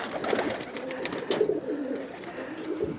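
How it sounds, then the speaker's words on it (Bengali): Pigeons kept at a home loft coo softly and repeatedly, low rolling calls over a busy background of rustling and ambient noise. "এই যে 110 জেনারেশনের কবুতরগুলো দেখছেন,"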